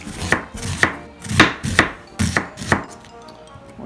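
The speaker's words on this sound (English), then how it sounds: "now we're going to chop some onion and garlic" Six sharp knife chops through onion and garlic on a cutting board at a steady, unhurried rhythm, close and clear, with no talking.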